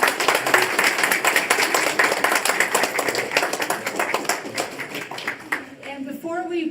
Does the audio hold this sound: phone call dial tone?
no